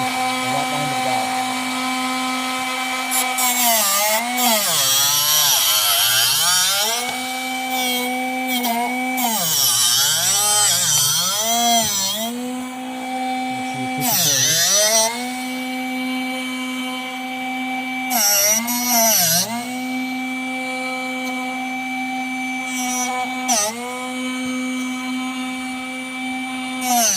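Drill Doctor 750X drill bit sharpener runs continuously at close range with a loud, steady motor hum. Bursts of gritty grinding come and go as the bit is worked, and the pitch dips briefly under load several times.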